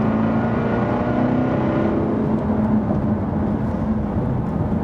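Jaguar F-Type SVR engine drones steadily from inside the car while driving, its ZF automatic gearbox holding a smooth even hum with a low rumble and no voices.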